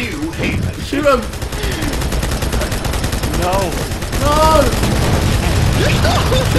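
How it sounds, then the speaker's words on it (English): Turret gunfire in a Halo 2 custom Death Star assault match, a loud continuous rattle of rapid shots with whooshing, sweeping tones overhead, heavy and close throughout. "the sound of those turrets rattles my"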